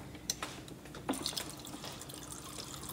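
Water from a tap trickles and splashes into a cup, a quiet steady flow with a few sharper drips and clinks, heard close and alone without talk.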